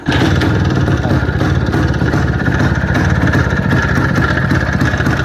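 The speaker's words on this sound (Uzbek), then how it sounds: "Mana ishlash, mototsikl ishlash" A motorcycle offered for sale idles steadily up close, its engine making a loud, even rumbling chug that runs the whole stretch with no voices.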